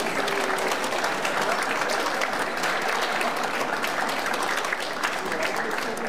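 An audience at a Busan lecture event applauds to welcome a former university president as he is introduced, a steady, dense clapping that fills the room without a break.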